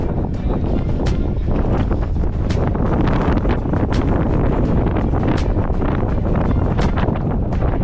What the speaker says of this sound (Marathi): जिथं वारा खूप चालू आहे.